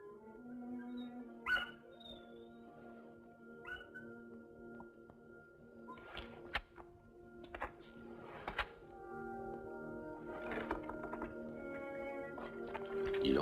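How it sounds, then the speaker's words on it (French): Dogs bark and yip excitedly at night, short bursts spread over a sustained musical background, moderately distant and fairly faint. "Puis les chiens qui aboient joyeusement comme pour fêter l'arrivée de quelqu'un qu'ils connaissent bien."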